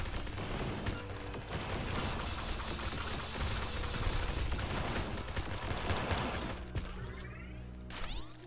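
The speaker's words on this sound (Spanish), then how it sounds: "Aquí, cañón de gravedad." A gravity cannon fires in the futuristic comic-style horde survivor game Ocelot Sunrise: loud, rapid, continuous volleys of shots with crashing, shattering impacts and mechanical clatter, thinning out toward the end.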